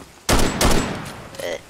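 Two quick loud gunshots from a hunting video game crack back to back, aimed at a bear, followed by a brief fainter sound, close and punchy.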